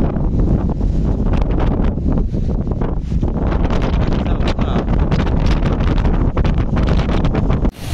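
Strong storm wind during village flooding, bending trees, roars steadily and loudly across the microphone for the whole stretch, with rustling gusts and no voices.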